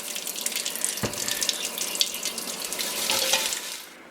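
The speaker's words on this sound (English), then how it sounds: "we're just going to wash it up and get all this rust out with the steel wool and soap" Tap water running and splashing into a sink while a rusty cast iron pot is scrubbed with steel wool and soap, a steady close rush with a sharp knock near the start.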